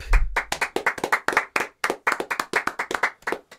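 A group of people clapping their hands in quick, uneven bursts of sharp claps close by, lasting a few seconds without talk.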